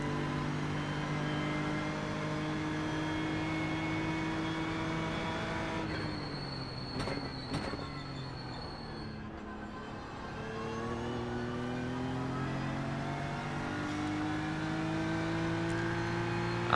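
Virtual race car working through the gears at Bathurst's Mountain Straight in a VR sim racing game on cold tyres, a loud engine whine rising and falling as it shifts, steady and close with no voices.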